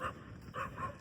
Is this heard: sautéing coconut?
no